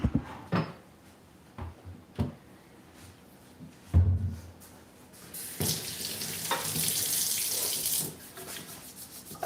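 A kitchen tap splashes in short bursts and then runs steadily into a sink while hands are washed, close by, with clatters in between.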